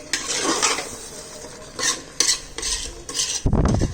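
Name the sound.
stirring chicken biryani with dry coconut powder in pot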